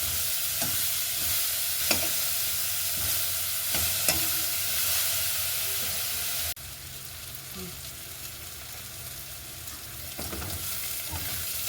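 Carrot and leeks sautéing in a pan for rava upma, a low steady sizzle with occasional spoon scrapes and stirs, faint and continuous with no speech.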